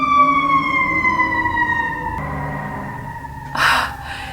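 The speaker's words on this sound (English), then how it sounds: "There have been so many fire trucks and ambulances." A fire truck siren wails loudly and steadily, its tone slowly sliding downward as it passes, followed by a short burst of noise near the end.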